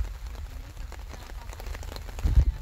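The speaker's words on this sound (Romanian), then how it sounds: "Ce frumos plouă, Doamne!" Steady rain pours down at a pond during a fishing trip, a dense even patter with heavier drops and splashes near the end, no talking.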